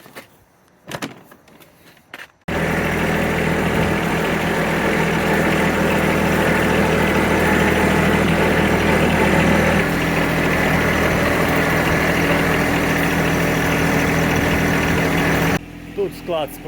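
A small John Deere tractor engine idles steadily and loudly with a constant low rumble, after a few brief knocks at the start.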